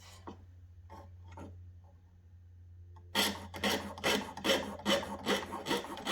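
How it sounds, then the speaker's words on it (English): Metal file rasping the edges of silver wire for a fabricated pendant, a quick run of rhythmic back-and-forth strokes that follows a few faint taps, close and fairly loud. "I'm filing the edges of that wire just a little bit to make sure they're nice and straight"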